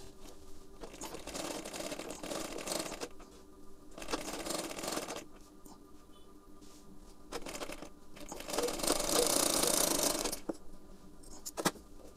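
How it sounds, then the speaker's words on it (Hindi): Sewing machine stitching katori cups for a 32-inch blouse with contrast thread, running in several rapid mechanical bursts with pauses between, close and clear with no talking. "मैं इसमें कंट्रास्ट धागे का उपयोग कर रहा हूँ जिससे कि आपको स्टिचिंग करते हुए समझ में आ सके"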